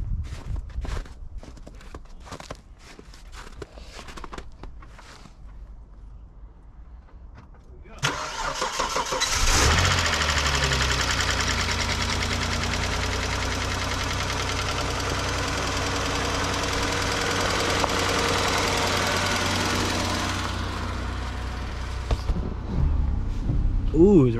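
A 2005 Saturn L car is cranked and its engine catches after a few seconds of clatter and footsteps, then settles into a loud, steady idle before quieting, with voices talking around it.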